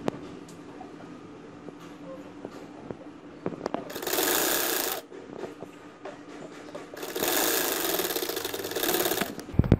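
A sewing machine runs in two sustained bursts while it stitches a side seam and lace on a poncha garment. Quieter handling, clicks and rustling sit between the bursts.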